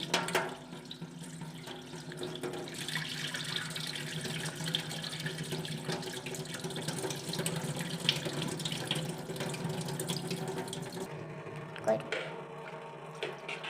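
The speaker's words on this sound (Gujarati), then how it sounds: "આવી રીતે આપણે માખણ ધોતું જવાનું, ચમચો ફેરવી ફેરવીને એકદમ પાણી જેવું પાણી નીકળી જાય ને ત્યાર સુધી ધોવાનું છે" Water runs steadily from a tap into a container while homemade butter is washed and stirred with a spoon, a constant close splashing flow with light clinks, fading somewhat toward the end.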